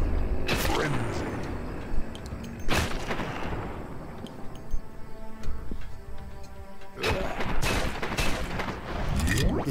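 Gunfire in the zombie shooter Dead Purge Outbreak comes in dense rapid bursts and bangs, loud and repeated across the span, broken by short gaps, with game sounds and voices around it.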